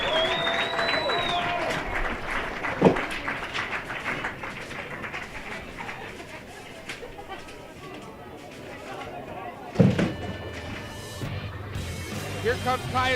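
Crowd applause and cheering for graduating seniors at a school spring weekend event, mixed with chatter and talk, a couple of sharp knocks, and the noise thinning out partway through.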